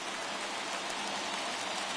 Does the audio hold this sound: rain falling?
yes